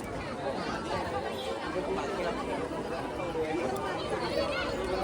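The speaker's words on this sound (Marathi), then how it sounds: "भाविक देखील मोठ्या प्रमाणात आहेत आणि गर्दी बघा." Devotees crowd a Chhatrapati Shivaji Maharaj temple in Mumbai, their chatter forming a steady, moderately distant babble of many overlapping voices with no single speaker standing out.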